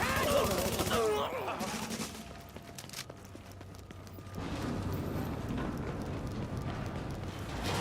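Gunfire in The Division, a short burst of rapid shots at the start, then a quieter stretch followed by a denser wash of distant firefight noise and game effects.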